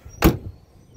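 A 1968 Impala car door swings shut with one loud, close, solid thunk that quickly fades into a quiet background.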